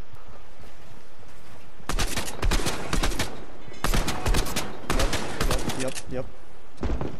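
Loud bursts of gunfire ring out in a mobile shooter video game. Rapid volleys repeat in clusters separated by brief quieter gaps, with some speech in the background.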